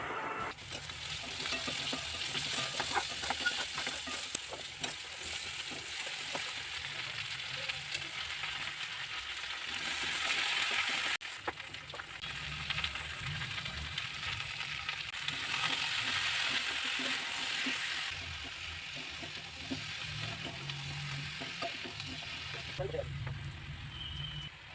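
Malabar spinach cooks in a wok with oil, dried red chillies and five-spice seeds, giving a steady low sizzle with occasional stirring scrapes throughout, fairly faint and close, while a person talks intermittently over it.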